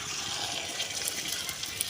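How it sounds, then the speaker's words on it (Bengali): Beaten egg hits hot oil in a brass ladle with a steady, close, bright sizzle that runs evenly throughout. "ডিমের গুলাটা ঢেলে দেব"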